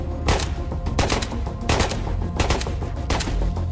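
Gunfire in the VR shooter Ghosts of Tabor comes in several loud, rapid bursts of automatic fire separated by short gaps, close and without talk.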